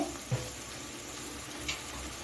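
Spice masala sizzles gently in oil in a pan over a medium flame, with soft crackling and a couple of faint stirring knocks. It stays quiet and close, with no talking.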